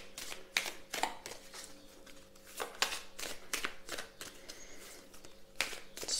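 Tarot cards shuffled and drawn by hand: a run of crisp papery flicks and slaps at an uneven rhythm, close and fairly quiet, with a faint steady hum underneath and no voices.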